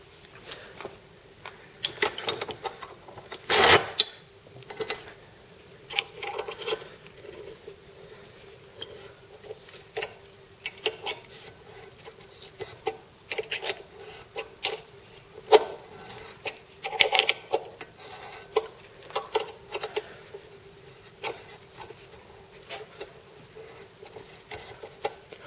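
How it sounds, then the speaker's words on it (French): Tap cutting a thread inside a small metal part to take a glow plug: sparse, irregular faint scraping clicks and creaks, close up, with one louder knock near the start and quiet gaps between turns. "je suis en train de créer un pas de vis, auquel la bougie de préchauffage devrait se visser"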